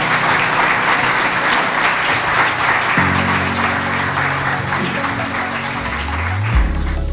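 An audience at a diversity networking evening applauds to welcome a speaker. Steady, full applause fills the room for the whole stretch, with low hum and faint voices beneath.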